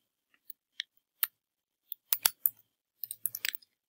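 Keystrokes on a keyboard while a password is typed, a few sparse, quiet clicks followed by two quick bursts of taps in a near, otherwise silent setting.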